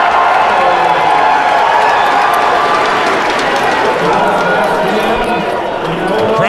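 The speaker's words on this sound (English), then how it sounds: "The crowd certainly behind Phil Ivey here" A large poker tournament crowd roars and cheers steadily throughout, loud and continuous, with a commentator's voice mixed under the din.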